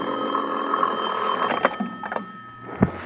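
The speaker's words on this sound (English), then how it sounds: "I propped myself up in bed with a magazine and was almost asleep when my phone rang" An old-fashioned telephone bell rings in a radio drama, a bandwidth-limited trill of repeated rings followed by a couple of soft knocks, heard alone without voices.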